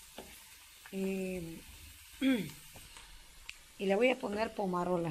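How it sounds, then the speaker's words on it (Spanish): Potatoes fry in a pan with a continuous soft sizzling hiss underneath a woman's speech, the crackle staying low and steady between and under her phrases. "Aquí estoy friendo papitas."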